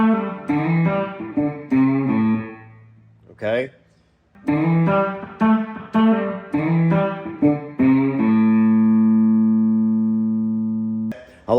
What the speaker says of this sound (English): So you're doing that same lick that you started with.